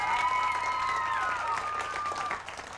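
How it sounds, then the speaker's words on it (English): A studio audience at a 1990 kids' quiz show gives a round of applause, steady clapping under a sustained musical tone that slowly fades out. "Nice round of applause for them."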